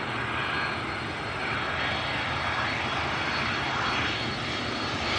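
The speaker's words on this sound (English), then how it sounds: "we got a heavy jet inbound, UPS 5442 inbound from Louisville, Kentucky. This is a 767." A UPS Boeing 767 heavy cargo jet, inbound from Louisville, Kentucky, approaches Cleveland with a steady, loud, broad engine roar that fills the whole stretch without any talking.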